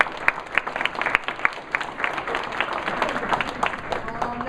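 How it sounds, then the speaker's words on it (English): Audience at a civil rights event claps in a round of applause, a dense steady patter of many hands at moderate distance filling the room, with a faint voice briefly audible underneath. "Big round of applause."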